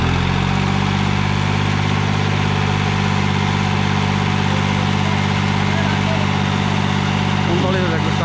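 A 2016 New Holland 3630 Plus tractor engine runs steadily just after starting, a loud, even, low diesel idle drone that stays constant throughout.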